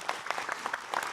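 An audience claps at an Islamic religious talk show for Ustadz Maulana in a short, brisk burst of applause.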